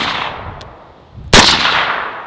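A rifle fitted with a Surefire SOCOM RC2 suppressor fires one close, loud, sharp shot that cracks and trails off under steady outdoor noise, after a faint earlier metallic tick.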